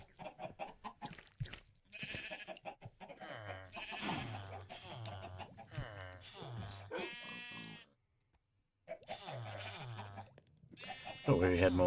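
Sheep in the video game Minecraft bleat several times in short repeated calls, heard alongside someone talking, with a brief quiet gap near the end.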